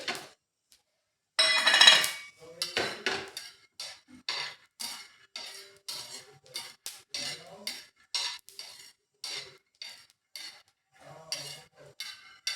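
Skins being removed from freshly roasted peanuts, rubbed and shifted in a dish: a quick run of dry rustling, rattling and light clinking bursts in an uneven rhythm, close by with quiet pauses between them and no talking.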